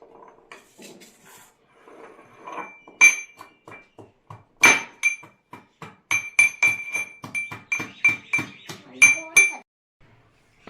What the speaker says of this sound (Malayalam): അപ്പൊ നമ്മൾ ആദ്യം തന്നെ എടുക്കേണ്ട ഉള്ളി ആദ്യം തന്നെ ചതച്ചെടുക്കാം